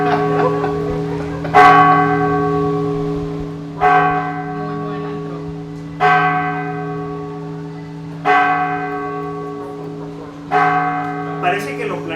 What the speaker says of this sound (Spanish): Voy a esperar a que terminen las campanas.